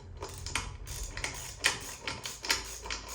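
A ratchet wrench loosens the last intake manifold bolt on a Honda K20a Type R engine with an RBC manifold, producing a run of quick, light mechanical clicks up close and steady for a few seconds.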